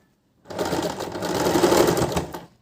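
A sewing machine runs a straight seam on a Pakistani-style salwar, giving a close, steady mechanical whir that continues for about two seconds with no talking.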